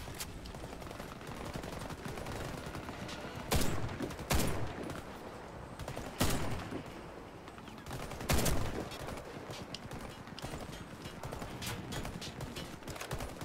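Turret gunfire in the shooter game Warface: a dense, steady clatter of rapid shots, with several louder sharp bangs standing out at intervals and no talk.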